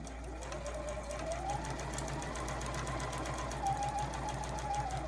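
Sewing machine stitching down the edge of a skirt, a continuous close mechanical whir with a rapid needle patter running steadily throughout.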